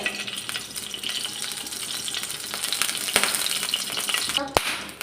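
Ghee sizzles in a non-stick pan on the stove, a soft, steady hiss at moderate volume with a few light clicks near the end.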